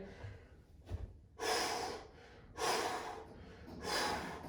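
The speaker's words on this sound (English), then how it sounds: "Focus on your breathing." Someone breathes heavily during a kettlebell workout, with three loud, forceful exhalations following a short sharp inhale, each breath close and rhythmic with brief gaps between.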